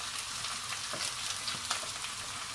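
Shallots frying in coconut oil for Thai fried rice make a steady bubbling sizzle with light crackles and small pops, close and even throughout.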